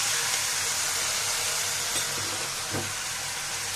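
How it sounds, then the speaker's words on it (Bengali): Spice paste of cumin, coriander, turmeric and chili powder fries in oil, giving a loud, steady, close sizzle with occasional stirring scrapes and no speech. "আবারও আমি মশলাগুলোকে ভালো মতো কষিয়ে নিব, একদম তেল ছাড়া পর্যন্ত আমি মশলাটাকে ভালো মতো কষিয়ে নিব"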